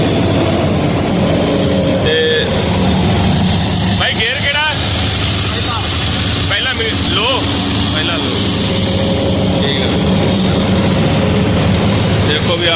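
A John Deere 5210 Gear Pro 4x4 tractor engine runs with a steady low rumble at an even idle around 1600 rpm, loud and close, with people talking over it.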